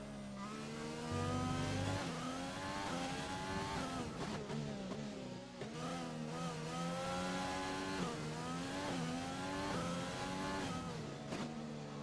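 Race cars in a league replay of a racing video game, a McLaren among them, roar continuously with rising and falling engine pitch as gears shift and cars pass, loud and unbroken throughout.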